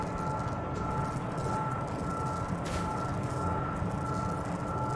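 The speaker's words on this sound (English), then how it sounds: "We're on a train." A steady train ride rumbles in the video game No Time, with a continuous dense rolling roar and a faint tonal hum throughout and no pauses.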